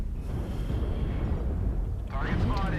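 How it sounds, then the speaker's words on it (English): Artillery strike explosions rumble in MechWarrior Online, a low, continuous barrage of booming impacts rolling on for a few seconds. A warbling voice-like tone breaks in near the end. "Artillery strike."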